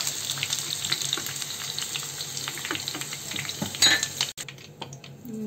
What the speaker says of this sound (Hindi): इसे अच्छी तरह से शैलो फ्राई करेंगे